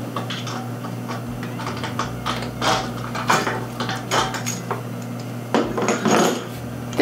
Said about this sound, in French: Pour installer la valve, rien de plus facile, on défait le tri-clamp.